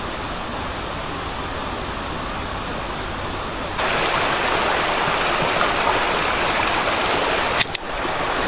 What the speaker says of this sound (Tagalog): puro tunog lang ng agos ng ilog na narinig